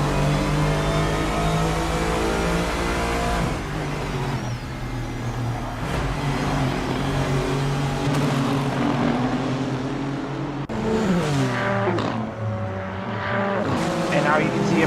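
GT3 race cars in a racing game at Sepang, several engines whining and revving together, rising and falling in pitch as they pass and shift, with commentators talking over the steady roar.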